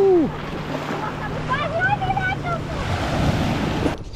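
Warm sea waves washing onto the shore at Batumi, Georgia, a steady broad wash with wind noise on the microphone and faint whistling tones above.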